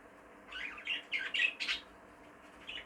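A caged bird in a breeding aviary chirps in a quick cluster of bright tweets and squeaks, moderately close, then pauses before one last short call against quiet background hiss.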